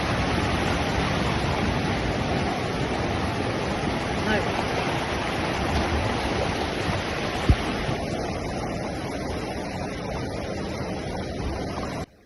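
A continuous roar of storm surge surf and churning water on the coast of Palanan, Isabela, Philippines, with a sharp knock partway through and no pause in the rushing noise.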